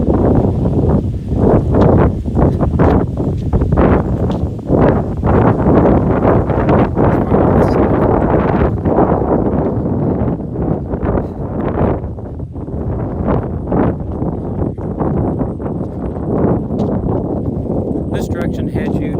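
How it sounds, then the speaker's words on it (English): Wind gusts buffet a microphone while walking through a park, with steady low rumbling and rustling throughout. Someone talks over it for most of the stretch. "I don't know if you can hear that wind."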